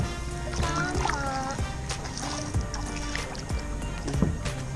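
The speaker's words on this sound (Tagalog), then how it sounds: "Magbangka-bangka ka lang sa pool." A small boat paddled across a swimming pool in Siargao, with steady watery paddle splashes and sloshing throughout and occasional voices nearby.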